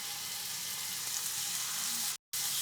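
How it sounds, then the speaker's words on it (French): Game meat searing in a hot frying pan in a restaurant kitchen, giving a steady, loud broadband sizzle that runs continuously with a brief cut near the end. "on attend que ça soit bien saisi de chaque côté"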